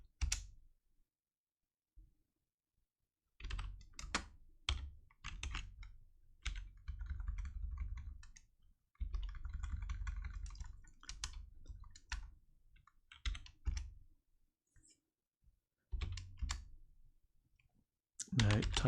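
Close computer keyboard typing, with bursts of quick key clicks and clatter separated by short pauses, fairly quiet in an otherwise silent room, with no talking.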